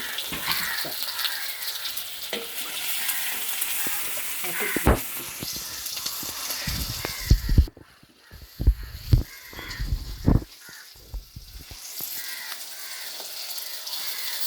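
Onions, both small and large, and green chilies fry in a home pan with a steady loud sizzle and occasional stirring clatter, while crows caw faintly in the background.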